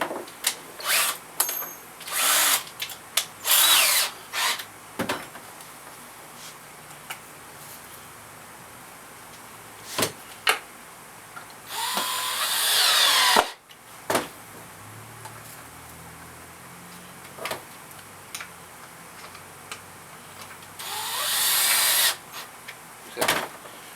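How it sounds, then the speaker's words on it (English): A power drill drives two small screws into the side slots of a rod mount on a fish taxidermy form, in several short bursts, with a couple of longer whirring runs partway through. "I'll run 2 smaller screws into those side slots"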